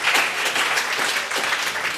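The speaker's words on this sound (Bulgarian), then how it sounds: "Аплодисменти!" Loud, steady clapping from a television concert audience, continuous and dense throughout.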